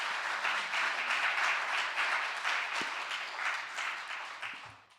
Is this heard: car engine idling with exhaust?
no